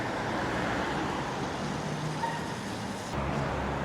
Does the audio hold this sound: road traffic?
yes